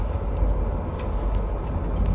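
A train rushes through La Louvière-Sud station at speed without stopping, with a loud, steady low roar and rumble, no braking or stopping, with no voices.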